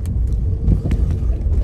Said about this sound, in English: Let's fire it up and roll down the road.